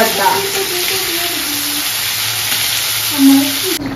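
Shrimp poured into a pot of boiling curry, a close, steady sizzle and bubbling hiss lasting a few seconds with faint stirring noises.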